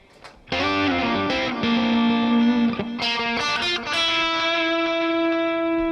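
A Fender Player Stratocaster HSS electric guitar on the middle plus bridge pickup setting, both tone controls full up, rings out strummed chords and a few picked notes with an effects-colored, slightly driven tone, ending on a long sustained chord.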